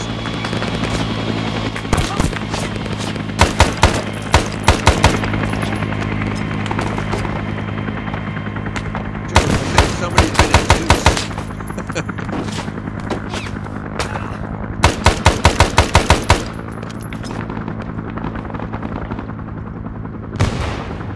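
Bursts of rapid automatic gunfire from a Vietnam War video game, three loud rattling volleys spaced several seconds apart over a constant low helicopter-like drone, with a few single shots between.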